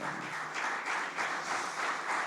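A church congregation claps together in a moderate, steady wash of applause that swells in soft pulses.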